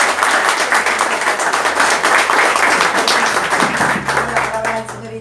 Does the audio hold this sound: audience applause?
yes